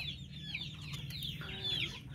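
Darag native chickens cluck softly and chatter in a series of short calls over a low, steady background hum, fairly faint and close by, with no talking.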